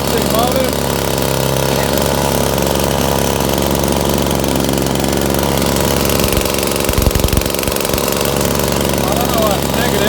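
Small two-stroke whipper snipper engine drones loud and steady, turning a DC motor used as a generator, with a brief rough stutter partway through and a voice talking over the running engine.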